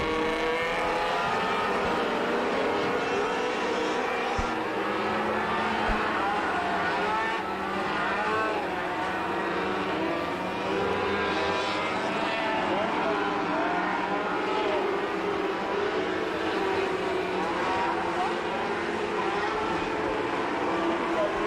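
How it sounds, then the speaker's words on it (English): Pack of sport trucks racing on a Wisconsin oval track, engines droning and rising and falling at a distance in a continuous roar, with a commentator talking over the racing throughout. "Van Handel running in third, and a whole pack of trucks behind now."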